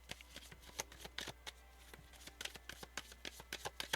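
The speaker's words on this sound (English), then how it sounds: "Get a couple more cards here. A couple more cards for pile one's person." Tarot cards are shuffled and drawn in a quick run of crisp, close riffling snaps and flicks, steady and rhythmic for a few seconds, with no voice over it.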